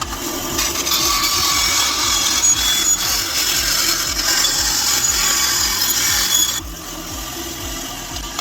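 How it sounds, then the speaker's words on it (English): A saw cuts steadily through a gun magwell with continuous rasping strokes, close and loud for about six seconds, then drops to a quieter rough hiss. "And then we're going to go across and cut it up right at this angle here."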